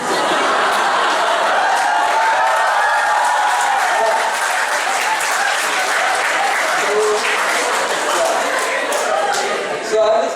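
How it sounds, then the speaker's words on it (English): A large audience claps loudly and continuously, a thick, steady wash of applause with some chuckling and murmured voices mixed in. "I am sure those claps were of respect"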